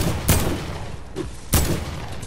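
Video game gunshots ring out as two loud, sharp cracks about a second apart, with a quieter shot between them over a low background hum.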